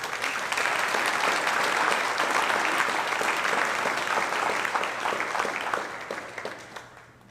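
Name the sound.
audience applause at hall of fame ceremony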